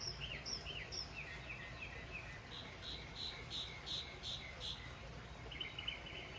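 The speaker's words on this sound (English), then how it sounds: "I love hearing those birds sing" Faint birdsong chirps and trills in the distance over a low, steady outdoor background hum, scattered brief calls repeating throughout.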